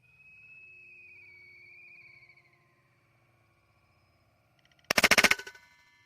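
A DBB-R .177 air rifle fired while hunting gives a tight burst of sharp, loud cracks near the end, preceded by a quieter stretch with a steady high tone and then near silence.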